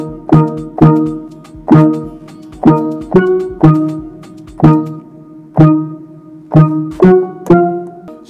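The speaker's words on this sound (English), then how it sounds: "I use Purity, and it's called Steel Drums." A synthesized steel drum patch from the Purity plugin plays a bright, bouncy melodic pattern of plucked, ringing notes with quick decays in a syncopated rhythm, loud and alone.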